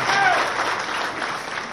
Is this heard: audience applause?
yes